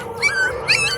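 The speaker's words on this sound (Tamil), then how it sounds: "எங்க இருக்கு நாய் குட்டி" A puppy whimpers in two short, high, whining cries close by, with a brief pause between them and no talk.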